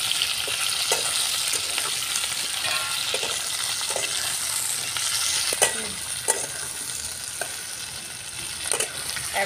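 Capsicum and peeled onions dropped into frying soybean chilli, a steady bright sizzle with repeated clacks and scrapes of stirring at irregular intervals, close and loud.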